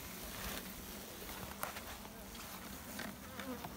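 Bees working on brood comb in a split hive give off a thick, steady buzz close by, with faint soft knocks and a low voice beneath the hum.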